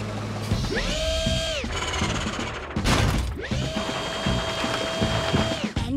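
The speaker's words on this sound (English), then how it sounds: "Pick up the engine with your crane." A cartoon toy crane on a rescue vehicle lifts an engine, giving steady whirring and ratcheting mechanical winding in two long runs, with a brief clunk between them, loud and close under layered music.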